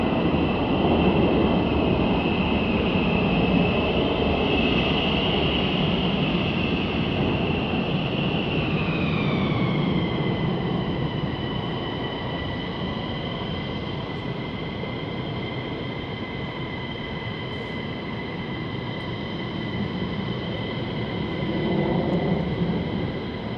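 USAF F-15 fighter jets roar on an unrestricted vertical departure, a loud sustained broadband jet rumble with a falling whine partway through that then steadies and fades slightly.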